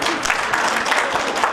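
An audience claps steadily throughout at a tribal poetry gathering, a dense, even patter of many hands close by with no voices standing out.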